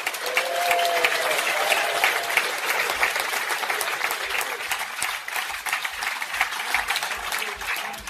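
An audience claps steadily for several seconds, dense applause at a political talk that thins slightly toward the end with no voices over it.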